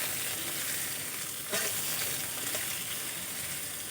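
Chopped onion, garlic and green chili frying in hot oil in a pan, a continuous dense sizzle with a brief stirring scrape partway through, close and loud with no talking.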